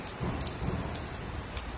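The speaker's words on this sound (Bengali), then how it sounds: "অনেক অনেক বৃষ্টি হচ্ছে" Heavy rain pours down steadily in a dense, close hiss on surfaces, unbroken for the whole moment with no voices.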